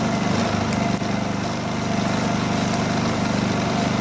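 A Honda EU2000i portable generator runs steadily, close by and alone: an even, buzzing engine drone with a regular low pulse and one small knock partway through.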